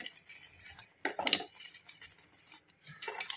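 A spoon stirring a thick homemade cream mixture in a pan on a low stove flame, with faint scraping and a few soft metallic clinks against the pan.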